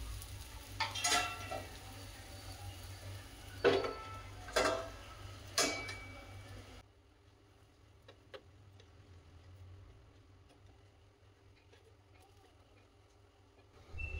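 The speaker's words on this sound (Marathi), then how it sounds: "दोन्ही साइडनं छानपैकी वाफलून घेतल्यानंतर परतून घ्यायचं 2-3 वेळा" Mixed-flour thalipeeth roasting on a pan, with soft sizzling and a few sharp scraping clacks as it is turned, then a quieter low frying hiss that continues alone.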